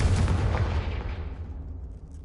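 A Confringo blasting spell goes off in the Hogwarts Legacy video game as a single loud, booming explosion that rumbles deep and then fades away over about two seconds.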